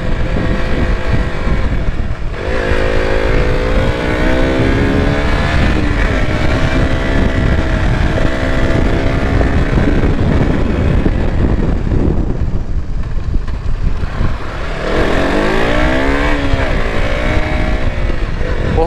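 KTM RC 200 and Pulsar RS 200 motorcycles racing close together through corners, their engines loud and near with rising and falling revs, wind buffeting the microphone throughout.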